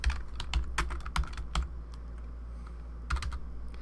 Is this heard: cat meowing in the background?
no